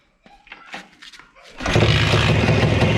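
A Muravei motor scooter engine turns over with a few rough cranking bursts, then catches at about 1.6 seconds and runs loud, close and steady with a continuous broad roar.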